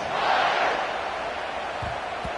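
Stadium crowd noise from a College Football 26 game, a broad steady roar swelling slightly early on, loud and continuous, with a couple of low thumps near the end.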